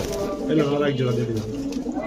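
Pigeons coo in low, rolling calls at a pigeon sale, heard close and steady beneath people talking.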